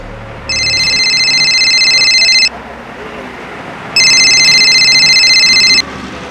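Two long bursts of an electronic telephone ring, each lasting about two seconds with a pause between, loud and clear over a low background hum in an indoor drama scene.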